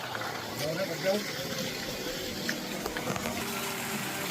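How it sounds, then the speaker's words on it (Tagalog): Spring water by a mountain road flows and splashes steadily at low level, a soft continuous gush beneath people talking nearby. "Ito talagang spring water to."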